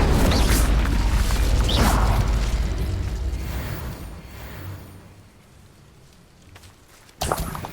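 Spell blasts from Bombarda and Confringo in Hogwarts Legacy come as loud booming bursts and whooshes, heavy at first and fading into a quieter stretch before a final sharp burst near the end.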